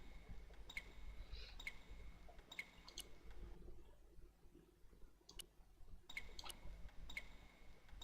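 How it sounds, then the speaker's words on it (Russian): Water slowly drips from a tap onto a towel in the Broken Sword point-and-click adventure game, soft repeated drops at irregular intervals over a quiet background. "The slow drip of water barely dampened the towel."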